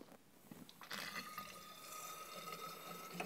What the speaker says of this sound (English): All right, so let's add some of the water.